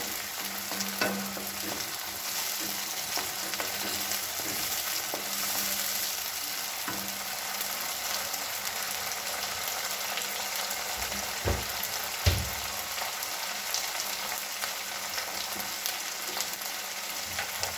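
Tomato paste fries in a pan for an aloo baingan sabzi, giving a steady soft sizzle with intermittent spatula scrapes and a couple of louder knocks near the end.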